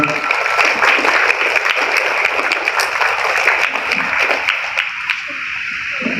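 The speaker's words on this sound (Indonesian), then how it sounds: "Tepuk tangan untuk Bunda berdua." At a sixth-grade school celebration, an audience applauds two teachers called onto the stage, a loud continuous wash of clapping with a microphone hum beneath and voices murmuring as it thins near the end.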